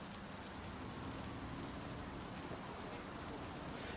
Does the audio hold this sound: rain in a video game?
yes